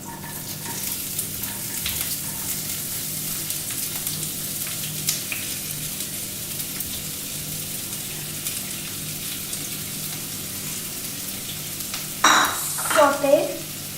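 Onions sautéing in a pan with cumin seeds for a tomato curry keep up a steady, moderate sizzle for a long stretch, ending in a louder burst of splashing and scraping.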